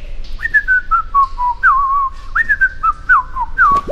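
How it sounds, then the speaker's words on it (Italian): A group of cartoon dwarfs in an Italian animated series whistle a cheerful tune together in one bright melodic line that rises, dips and slides between notes, clear and close with no talking. "su, forza, fratelli nani, fischiettiamo tutti insieme"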